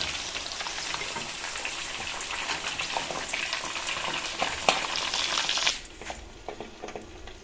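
Chicken chargha deep-fries in hot oil in a kadai, a loud, steady bubbling sizzle with crackling spatters that drops off abruptly near the end to a softer fizz, close up and free of talk.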